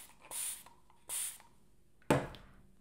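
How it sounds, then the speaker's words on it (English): Two short hissing bursts of a spray bottle misting water onto paper for acrylic painting, then a sharper brushing scrape, quiet and close. "Actually, I'm gonna spray the paper."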